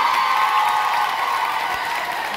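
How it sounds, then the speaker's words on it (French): An audience at a graduation ceremony for an African arts school applauds, a steady wash of clapping with faint crowd noise running throughout. "Je vous invite à applaudir chaudement"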